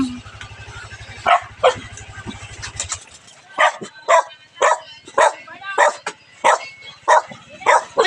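A dog barks repeatedly in sharp bursts, fairly close, after a low steady hum in the first few seconds.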